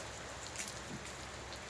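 Heavy rain falls in a dense, constant hiss of drops striking surfaces close by, with no pauses.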